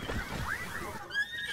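Horse in a video game letting out a loud, close whinny with a wavering, descending tone lasting just over a second.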